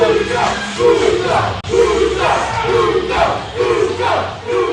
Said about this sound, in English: The crowd has erupted here.